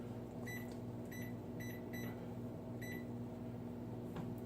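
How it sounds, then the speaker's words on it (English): A microwave oven runs with a steady low mains-frequency hum throughout, a faint continuous drone with a few short electronic beeps near the start. "I just turned on the microwave."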